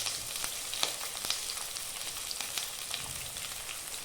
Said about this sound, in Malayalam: ബാക്കിയുള്ള സാധനങ്ങൾ ഇടുന്നതിന് മുമ്പ് സവോള മൂത്ത് വരാനായിട്ട് ബീറ്റ് ചെയ്യും